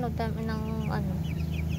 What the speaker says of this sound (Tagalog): Yan ang mga manok ni Sebi.